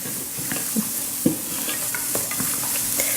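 Broccoli with sun-dried tomatoes sizzles in a pan over medium-low heat, a soft continuous fizz broken by several sharp spatula taps and scrapes.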